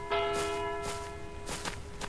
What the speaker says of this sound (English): Why am I hearing a bell?